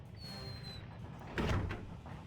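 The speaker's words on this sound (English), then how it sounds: "the heavy sound of the door closing echoes through the room" A heavy giant door closing in Persona 4 Arena Ultimax, a quiet low rumble that builds into a single muffled thud near the end, faint with a short echoing tail.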